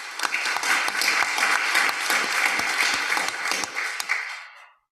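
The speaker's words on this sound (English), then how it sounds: "She deserves a round of applause for." Applause at a city council meeting, a dense, fairly loud burst of many hands clapping that holds steady for several seconds and then tapers off quickly to silence.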